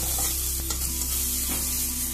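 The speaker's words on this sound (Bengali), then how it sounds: "অ্যাড হলো কুচনো পেঁয়াজ। এবার একটু ভেজে নিতে হবে।" Chopped onion frying in a pan after black mustard seeds makes a loud, steady sizzle that goes on without a break, with faint stirring sounds now and then.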